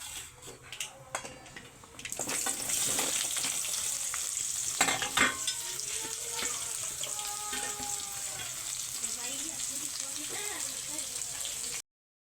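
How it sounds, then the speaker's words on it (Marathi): Onion sautéing in a pan in a home kitchen, stirred now and then: a steady close sizzle begins after about two seconds and runs on, with scraping stir sounds and occasional knocks, and a voice speaks briefly near the start. "इथे ना आपला कांदा आहे ना थोडाफार शिजला आहे अजून थोडासा परतून घेऊ"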